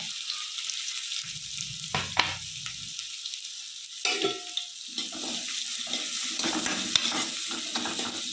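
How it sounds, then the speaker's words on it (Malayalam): Chopped onion sautéed in a hot pan, a constant bright sizzle broken by several scraping, tossing stirs, close and clear. "ഇനി ഇതിലോട്ട് സവാള അരിഞ്ഞത് ഇട്ട് കൊടുക്കാം നല്ല പോലെ ഒന്ന് വാരി വയ്ക്കുക"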